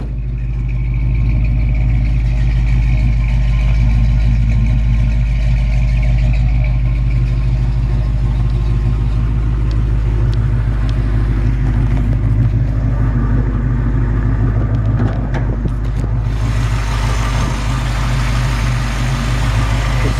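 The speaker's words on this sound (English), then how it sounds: "Just really nice, iconic sound of a Mustang." A 1966 Ford Mustang convertible idles through a brand-new Flowmaster exhaust, giving a loud, steady, deep rumble close by, with a faint shift in tone near the end and no voices.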